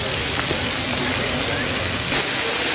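Garden fountain at Saheliyon-ki-Bari in Udaipur, spraying water that falls like steady rain, a dense continuous hiss close by with no pauses.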